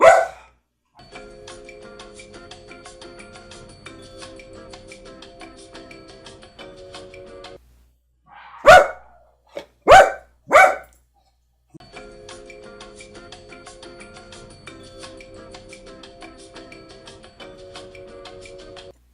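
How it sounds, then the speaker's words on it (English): Several sharp dog barks ring out in a quick cluster, loud and close, between stretches of a quiet chiming, ticking tune. "My dog is barking now."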